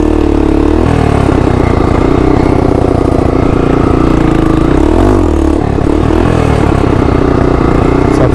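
A motorcycle engine idles steadily and revs near the mic, working up toward 8000 RPM ahead of a wheelie attempt. The rumble continues unbroken for the whole stretch with no talk over it.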